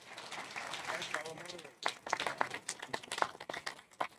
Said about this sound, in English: maybe a round of applause for this fantastic panel